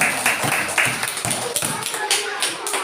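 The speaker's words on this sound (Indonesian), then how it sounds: "tepuk tangan untuk kita semua" A classroom group claps together in a brief, dense burst of applause, with no talk over it.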